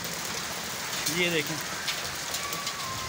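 Steady rain mixed with small hailstones patters on surfaces outdoors, a dense hiss with a few sharper hits, while someone speaks briefly over it.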